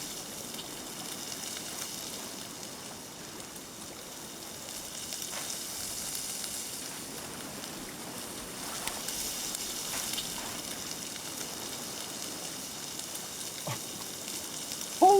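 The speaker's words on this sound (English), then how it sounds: "How long has that food been on there and it's still sizzling?" Food sizzling on a fire in a video game, a soft steady crackling hiss that runs continuously and faintly throughout, with no talking over it.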